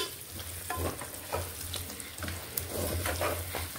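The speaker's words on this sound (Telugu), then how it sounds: "ఈ గోంగూర పేస్ట్ కూడా ఇలా ఈ ముక్కలకు పట్టేలాగా ఒకసారి కలుపుకోవాలి." Chicken pieces frying in a pan as gongura paste is stirred in, with a steady close sizzle and rhythmic scraping stir strokes of a spoon against the pan.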